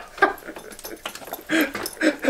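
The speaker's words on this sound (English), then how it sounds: "The dog's coming." A small puppy whimpers and yips in a string of short, uneven cries against a noisy background, fairly close.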